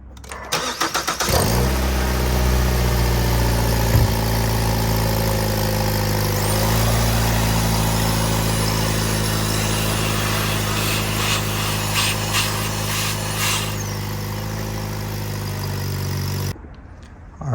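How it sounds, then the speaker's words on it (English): A Ford Fusion's engine cranks and catches, then settles into a steady, loud idle that runs for about fifteen seconds before cutting off, with no talking over it. "Alright, let's go ahead and start the car one more time."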